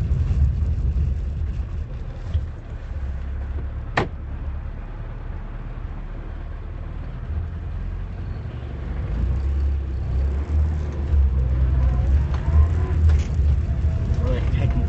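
Police minivan driving on a quiet rural road in Lincolnshire on a cold morning, a steady low engine and road drone with one sharp click, someone talking over it.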